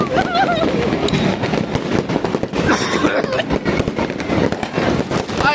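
Fireworks and firecrackers exploding on New Year, dense rapid crackling bursts and pops all around, close and loud, with people shouting and talking excitedly over the barrage.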